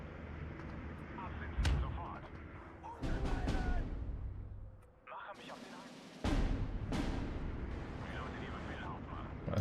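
Artillery bombardment rumbles through the Steel Division 2 war game: repeated heavy booming impacts and sharp bursts, several loud blasts with quieter stretches of rumble between them.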